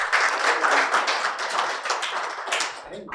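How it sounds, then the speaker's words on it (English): Guests at a business event give a loud, close round of applause, many hands clapping densely before the sound thins out and fades toward the end. "Please, a round of applause for him."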